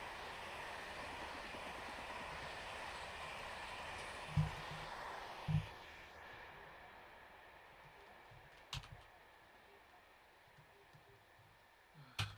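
A video-game train rolls along a curving track, a steady low rumble and rattle with a few sharp clanks and clicks spaced out over the run, fairly faint and without speech.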